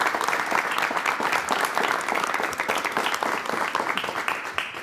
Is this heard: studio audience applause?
yes